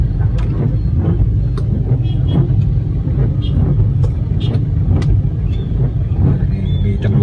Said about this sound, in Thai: นี่ครับตอนนี้รถติดหนัก